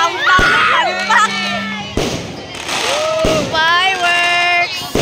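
Fireworks exploding at a Christmas celebration in Sarangani, sharp loud bangs at irregular intervals mixed with whistling and crackling, while excited voices cheer and shout close by.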